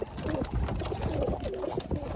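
Siraji pigeons in a loft at sunset coo softly and continuously in low, murmuring throbs, close and fairly faint.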